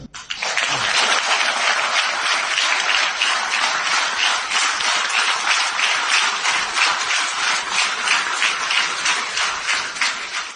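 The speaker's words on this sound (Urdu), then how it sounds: "یہ ابھی اور بھی تالیاں باقی ہیں، لوگوں نے اتنی تالی بجائی ہے" Sustained audience applause at a Pakistani political rally, a dense steady roar of many hands clapping that fills the whole stretch at even loudness with no voices over it.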